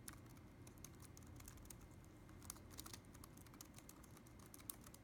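Someone types on a KinesisGaming Freestyle Edge mechanical keyboard, bottoming out the keys in a fast, continuous run of sharp clacks, close and fairly quiet.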